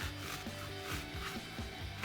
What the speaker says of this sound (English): So you can see me here sawing along, trying to go down straight as I can.